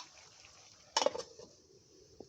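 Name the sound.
pot being covered with a lid while cooking chingri kochur loti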